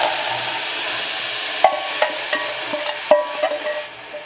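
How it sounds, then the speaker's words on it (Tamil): A utensil scrapes and knocks in a pan as a batter mixture for thiruppagam, a sweet, is poured in and stirred over the heat, with a few sharp clacks against the pan over a steady background hiss. "இப்போ இதை நம்ம வந்து இந்த ஃபேனில் ஊற்றிடலாம்."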